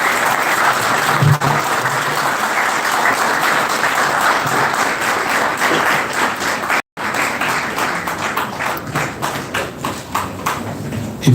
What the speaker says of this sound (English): and a good applause